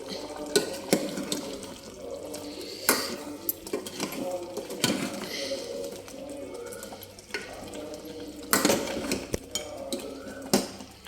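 Goat head curry stirred in a cooking pot, with a spoon scraping and clinking against the metal in irregular strokes over a soft wet bubbling, close and fairly quiet.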